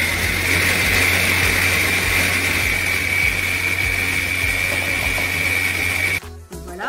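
A Moulinex Multimoulinette food processor whirs steadily on turbo while whipping mayonnaise, a loud, constant high motor whine that cuts off abruptly near the end.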